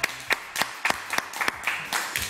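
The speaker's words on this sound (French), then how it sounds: "Aurélie, allez, on va t'applaudir," Clapping from a small studio audience on a French radio show, a sparse, uneven series of distinct hand claps, about ten sharp hits at irregular intervals, fairly close with no one talking.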